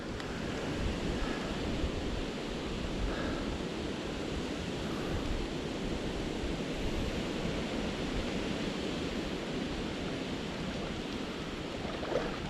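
Fast, high river water rushing steadily along a trout stream, a continuous broadband roar close to the microphone with no break and no voices.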